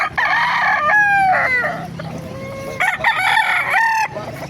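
A rooster crows loudly nearby at a Bocaue, Bulacan rooster market, long drawn-out calls repeated, with clucking and farmyard noise underneath.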